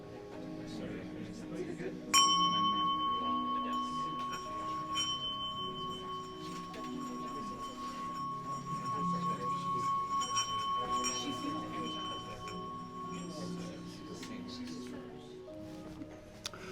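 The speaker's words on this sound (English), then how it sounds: "I'm going to ring a bell." A single bell in a magic shop is struck once, giving a bright ring that hangs on and slowly fades over several seconds, while a person talks throughout.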